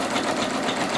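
A Singer Legacy SE-300 embroidery machine stitches an in-the-hoop project, producing a steady, fast mechanical whir and rattle, close and continuous throughout.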